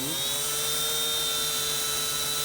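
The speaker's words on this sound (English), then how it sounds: "Here's our second drill bit. I just stepped it up to this because I know it's gonna work anyways." A power drill fitted with a step bit bores into the hood of a Dodge Neon for hood pins, giving a steady, sustained whine at an even pitch for the whole stretch.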